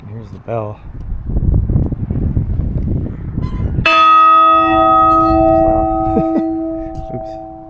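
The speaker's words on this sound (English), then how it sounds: "here's the bell." A church bell is struck once, loud and close, its deep tone ringing on and slowly fading for several seconds after a stretch of talking and outdoor wind noise.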